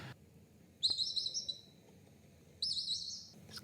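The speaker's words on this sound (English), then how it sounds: "See, chirpy and whistly. That's your Senegal parrot noise." A Senegal parrot gives two short bursts of bright, high chirping whistles about two seconds apart, fairly close, with quiet background between them.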